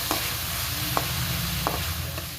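Chopped onions with salt sautéing in a pan over a medium flame, a steady close sizzle broken by a few soft scraping stirs, with no talking.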